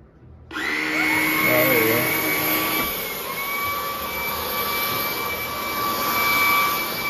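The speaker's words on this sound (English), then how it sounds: "It's sucking, but it's not spinning." A vacuum cleaner starts up and runs steadily and loudly, sucking air while its brush roll is not spinning, with a whining motor tone throughout.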